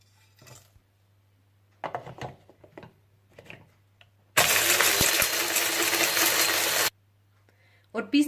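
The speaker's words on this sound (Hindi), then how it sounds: "आप जायफल, जावित्री, सब्ज इलायची, बादियान का फूल, काली मिर्चें और सौंफ को पीस कर रख लीजिए।" Whole nutmeg, mace, green cardamom, star anise, black pepper and fennel whir in an electric spice grinder, a steady loud grinding burst of a few seconds, with short bursts of talk before and after.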